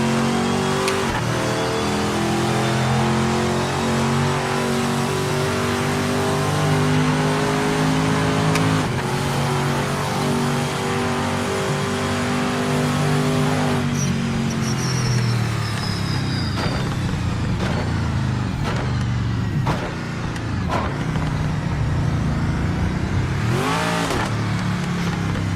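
A race car engine in Project Motor Racing holds loud and steady on throttle, its harmonic drone rising and falling through gear changes and corners, with brief revving bursts near the end and no voices.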